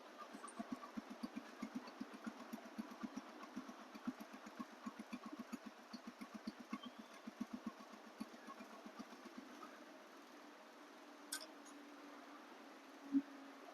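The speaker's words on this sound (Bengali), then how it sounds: "এবং কিছুক্ষণ রানিং অবস্থা শোনাচ্ছি দেখেন সাউন্ড আছে কিনা" A TVS RTR 160 2V motorcycle engine in showroom condition idles steadily with a soft, even, rapid pulsing, faint and unbroken, with a small click near the end.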